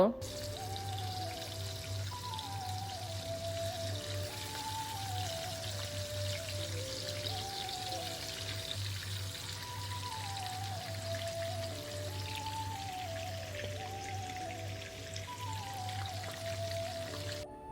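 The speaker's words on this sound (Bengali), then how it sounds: "এখন আমি হালকা করে একটু মাছগুলোকে ভেজে নিব" Pieces of pabda fish fry lightly in hot oil for a Bengali curry, giving a soft, steady sizzling hiss. A looping background melody and a low, constant hum sit on top of it.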